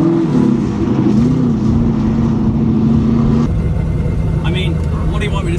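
Mad Max Interceptor Pursuit Special replica car with its engine running loud and close, a steady throaty drone with pitch wavering as it is revved, then settling into a lower rumble partway through.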